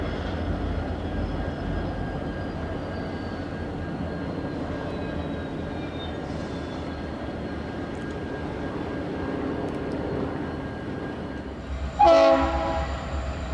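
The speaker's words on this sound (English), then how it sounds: "Another Triclops screams through on the point of some piggybacks." Union Pacific Triclops locomotive with its original Leslie horn leads a train of piggyback trailers past at Roseville; a continuous loud rumble of rolling cars fills the clip, and a sharp horn blast sounds near the end.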